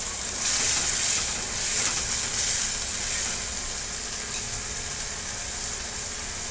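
Steady, fairly loud sizzling of stuffed brinjal masala with dried shrimp and fresh coriander being sautéed in a hot pan, with a continuous hiss and no voices.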